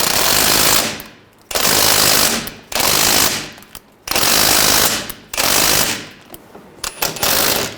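Five loud bursts of mechanical rattling hammering, each about a second long with short pauses between, from an 18mm socket loosening a cambered bolt on the rear suspension knuckle of a 2003-2008 Subaru Forester.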